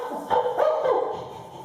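A voice imitates a happy dog, giving a couple of short, bright yipping barks in quick succession.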